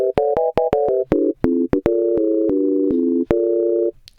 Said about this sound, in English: that's kind of what additive synthesis sounds like